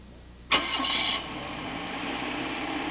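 A 1983 Dodge car engine cranks and catches with a sharp burst, then settles into a steady idle that hums on alone to the end.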